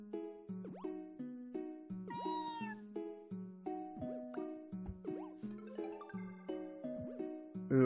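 Cartoonish cat meows from the video game Kattespill sound repeatedly over a bouncy, plinking melodic game tune, with several short, bright mews in quick succession and no talking.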